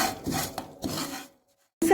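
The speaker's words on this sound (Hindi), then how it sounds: "बेसन हमने इसको चलाते रहना है," Gram flour (besan) being stirred and roasted in a pan for laddu, giving close scraping and rubbing strokes that stop briefly before starting again.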